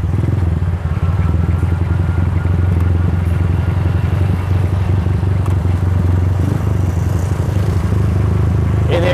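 A custom Yamaha Bison bobber motorcycle engine rumbles steadily at close range while riding, with a deep, throaty low-end drone, holding a constant loud idle-to-cruise sound throughout.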